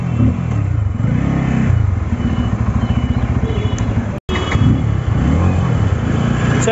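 A 2024 Bajaj Pulsar N250 motorcycle is ridden with its engine running steadily, a loud, close, continuous low rumble with wind noise, broken by one very brief dropout before the engine sound resumes.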